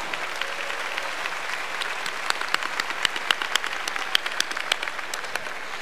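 An audience claps in steady applause at a live university event, a dense patter of hand claps that swells with louder individual claps toward the middle and end, with no talking over it.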